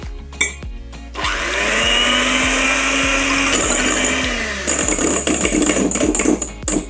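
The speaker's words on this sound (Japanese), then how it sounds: "まず容器に移してミキサーで泡立てていきます。" A handheld electric mixer whips fresh cream in a container at high speed, whirring steadily, its motor pitch shifting, with a few clicks before and after.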